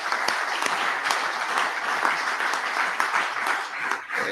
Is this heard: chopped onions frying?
no